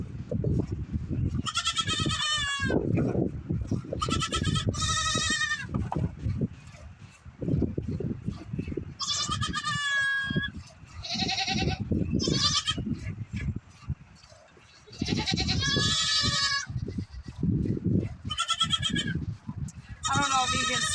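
Goat named Grizzy bleating repeatedly at morning milking time, loud nasal bleats in irregular bursts, with a person talking between and under the calls.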